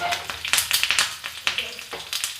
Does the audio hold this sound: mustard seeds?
yes